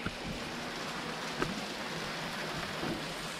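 Hail falls steadily outdoors in a dense, even hiss of small impacts, with a few slightly louder ticks standing out, no talk over it.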